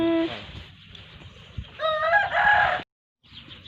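A rooster crows loudly nearby in the rain, with hens clucking around it and a brief pause before more clucking resumes.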